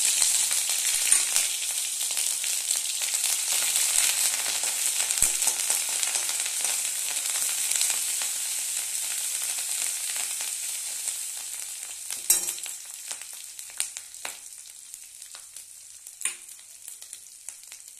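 Panch phoron spices sizzling in hot oil in a home kitchen pan, a bright, steady hiss with small crackles and a few sharp pops near the end, close and fairly quiet, with no talking.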